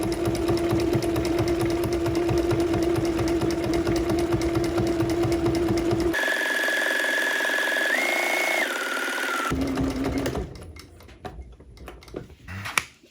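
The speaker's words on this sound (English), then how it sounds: "I'm gonna start off with a back stitch" A sewing machine runs continuously at a steady pace, stitching straight down the middle of a hem on a tool roll. A brief back stitch comes first, then a softer, uneven run and a few light clicks near the end.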